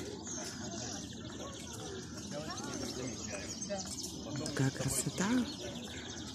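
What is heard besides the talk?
birds singing at dawn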